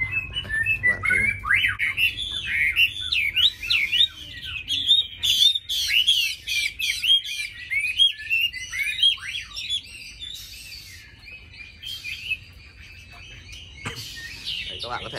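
Caged songbirds being trained to sing, including white-eye, magpie robin and red-whiskered bulbul kept at home, chirp and trill continuously in rapid, overlapping phrases at close range.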